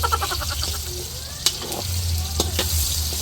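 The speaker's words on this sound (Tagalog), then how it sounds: "At na-slice na po ni Seth itong mga saging na saba. At atin na pong ipiprito muna." Sliced saba bananas frying in hot oil, a steady close sizzle and crackle with a few sharp utensil clinks over a low background hum.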